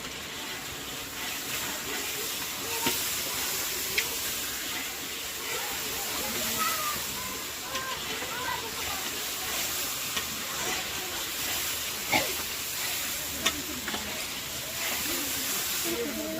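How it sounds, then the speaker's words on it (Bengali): Mutton pieces added to spices fried in a pan for a Bengali curry give a continuous hissing sizzle, with occasional clinks of a utensil and a voice speaking at moments over the steady frying. "মশলা কষানো হয়ে গেলে এবার এখন হচ্ছে মাংসটা দিয়ে দিচ্ছি"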